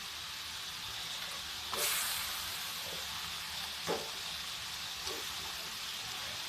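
Onion, garlic and brinjal fry in a pan with a continuous moderate sizzle, punctuated by a few brief bursts as the pieces are stirred.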